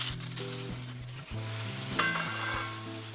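Milk poured into vermicelli roasted in ghee, a steady loud sizzle and bubbling that runs throughout with no talking.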